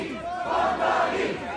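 A big crowd cheers and roars at Zohran Mamdani's election victory party in New York City, loud and dense with overlapping shouting voices, swelling for a brief moment.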